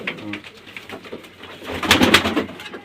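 Pigeons coo at close range, a soft, rumbling, repeated cooing that swells louder toward the end, with no voices.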